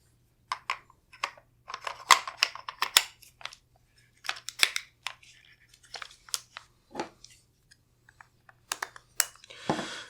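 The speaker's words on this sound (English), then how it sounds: "Swap out the mag well with the 9mm magazine well" Sharp, quiet clicks, snaps and scrapes of metal and polymer parts as the magazine well on a Windham Weaponry MCS rifle lower receiver is swapped for a 9mm one. The bursts are irregular, close and scattered over near silence.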